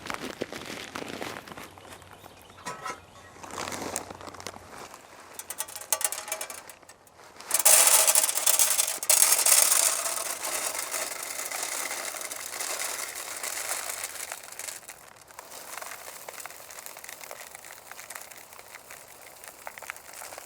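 Squirrel food of corn, seeds and peanuts is poured into a Woodlink Squirrel Diner feeder, giving a close, steady rattling rush after quieter rubbing and handling noises.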